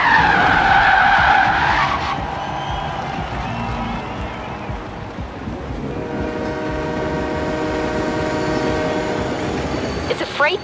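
A freight train in the video game Forza Horizon 3 roars past at close range, wheels screeching at first, then a steady rumbling clatter with a sustained tonal drone.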